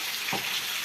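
Fish frying in a smoking-hot pan: a dense, close sizzle with a couple of short bumps from the pan or spatula as the pieces are turned.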